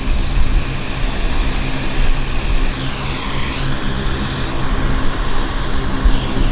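A WestJet airliner taxiing at Vancouver airport: a loud, steady engine roar with a jet whine that rises and falls midway, heard alone with no talking.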